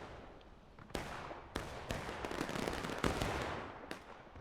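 Gunfire in a War of Rights online match: a dense, continuous crackle of distant musket volleys that sounds like fireworks, with sharp louder reports standing out above the rolling background.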